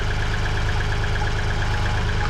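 A little tractor with a busted hole in its damaged engine idles close by, putting out a steady, loud, rapid low-pitched chug with no voices over it.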